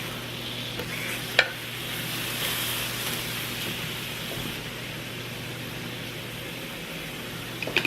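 Food sizzling in a pan on high heat, a faint continuous hiss and crackle with a steady hum beneath and a few small clicks and knocks of a utensil.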